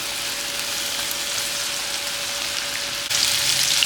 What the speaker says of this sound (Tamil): ஸோ நம்மளோட லாஸ்ட் பேட்ச் வந்து நான் இங்கே ஃப்ரை பண்ணிகிட்ருக்கேன்.